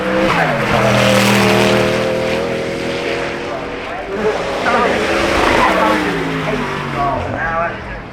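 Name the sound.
supercar racing at Goodwood Festival of Speed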